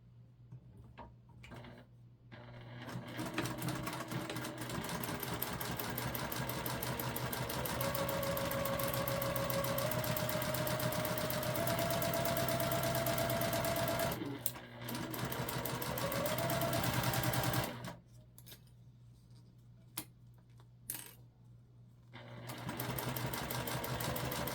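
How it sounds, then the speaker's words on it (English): A sewing machine attaches zipper tape to a travel pouch in a long, steady motor run with a rising whine and rapid ticking. It pauses briefly, resumes, then stops with a few clicks before another run starts. "we're going to sew it on"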